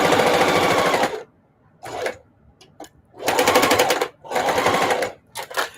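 Sewing machine stitching through a thick denim jeans seam, loud rapid mechanical chatter in several bursts of about a second each, separated by short pauses and a few brief stabs near the end.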